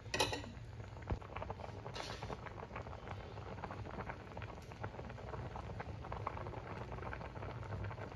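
Vermicelli kheer simmers quietly in a pot, giving a faint, continuous low bubbling with scattered tiny pops and light clicks, heard close and alone.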